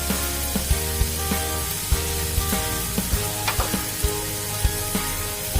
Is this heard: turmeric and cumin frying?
yes